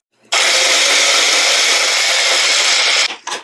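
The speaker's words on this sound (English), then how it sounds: "And now I'm going to put my onion in the blender." A kitchen blender purees an onion, starting abruptly into a loud, steady high-pitched whir for nearly three seconds, then cutting off, followed by a brief second pulse.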